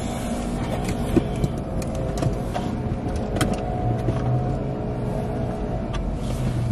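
A car engine idles steadily just after being started, a low continuous rumble heard from inside the vehicle, with faint interior clicks and rattles and no talking.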